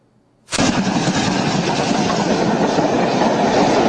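A loud train passes close by, bursting in abruptly after a short silence and then roaring steadily with rattling, clattering wheels until the end.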